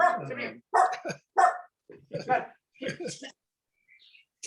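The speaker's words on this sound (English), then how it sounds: "excuse my dog, she's," A dog barks indoors in a string of short, sharp, fairly loud barks spaced unevenly, ending with a brief faint pause.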